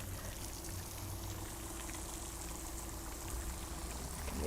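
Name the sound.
water feature fountain in a garden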